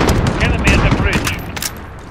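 Rapid enemy gunfire in Call of Duty Modern Warfare, a loud dense burst of automatic shots crackling continuously for a couple of seconds up close, with faint voice chatter mixed in.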